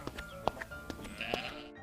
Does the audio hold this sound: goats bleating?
yes